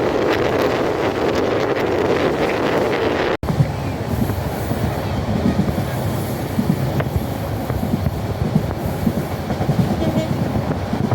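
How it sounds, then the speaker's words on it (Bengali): Train 712 Upakul Express, running from Dhaka toward Noakhali, approaches in a loud, steady rumble with clattering wheels and wind buffeting the microphone, after a brief cut partway through. "এই মুহূর্তে আমাদের দিকে ধেয়ে আসছে ঢাকা থেকে ছেড়ে আসা নোয়াখালী অভিমুখী ট্রেন নাম্বার সাতশো বারো উপকূল এক্সপ্রেস"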